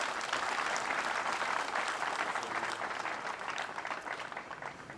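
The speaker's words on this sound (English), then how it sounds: "Kindly join me with a warm round of applause to acknowledge all our benefactors." Audience applause at a joint graduation ceremony for defence and international politics, honouring benefactors: dense, sustained clapping from a large crowd, steady and fairly loud for the whole stretch, tapering slightly near the end.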